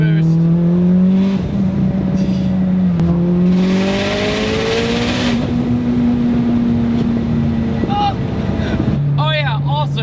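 A Mitsubishi Evo turbo car with a tial wastegate, making 825 horsepower, accelerates hard into boost. A loud, close engine rises in pitch through several gear pulls with a rushing whoosh midway and brief chirps near the end.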